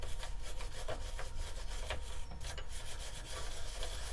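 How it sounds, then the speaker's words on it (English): A wire brush scrubs a piece of scrap wood spinning on a lathe after shaping with carbide chisels, a continuous close rasping drone over the steady motor hum. "give that a little clean up with a wire brush"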